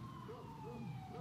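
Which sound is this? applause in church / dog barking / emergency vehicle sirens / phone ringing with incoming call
emergency vehicle sirens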